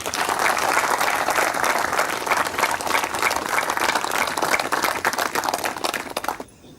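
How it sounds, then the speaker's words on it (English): An audience at a spiritual talk claps loudly and continuously for several seconds, a dense, sustained burst of applause that stops abruptly at the end. "Give a big clap for marriage."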